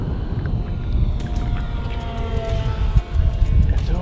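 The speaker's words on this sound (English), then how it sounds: "We'll go full throttle pass, nose into the wind on this one." An E-Flite Twin Otter RC seaplane on floats flies a full-throttle pass over water, its twin electric motors giving a steady, continuous whine with gently wavering pitch, heard from a moderate distance throughout.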